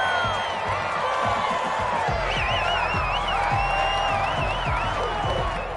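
Crowd in a Madden football video game cheering and whooping continuously at a steady, loud level, with whistling and scattered clapping, under a commentator's voice.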